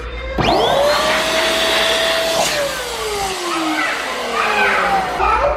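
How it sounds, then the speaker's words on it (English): Small electric balloon pump whirring steadily while two balloons are pushed over its nozzle and inflated, a continuous motor drone with a rising, then slowly falling tone as the balloons fill, and light handling sounds near the start. "So you're just going to put them over the little pump."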